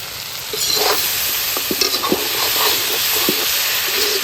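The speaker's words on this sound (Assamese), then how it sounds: "তারপরে পুরো মাংস ভাজি আছে" Meat frying with turmeric and spices in a pan at a night campsite: a loud, steady sizzling hiss with sharp scrapes and taps from stirring scattered throughout.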